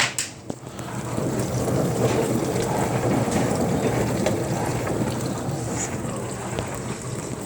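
Steady rushing, splashing water noise of a dishwasher wash cycle fills the whole clip at a constant level, spraying and churning inside, with a brief knock at the start.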